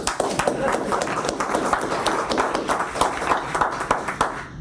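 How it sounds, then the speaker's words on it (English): A conference audience claps in congratulation after opening remarks at a business event, a steady patter of many hands filling the room at moderate loudness, with a voice talking over it. "I get to be the one to lead off the congratulations with a clap."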